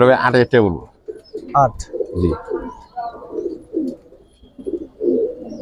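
Giribaz pigeons coo in low, rolling calls up close, while someone talks loudly near the start and voices carry on under the birds.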